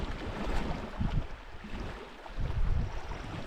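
Canoe paddling across Wabakimi Lake in the backcountry: soft, rhythmic water swishes and low rumbling wind noise, faint and close, with no voices.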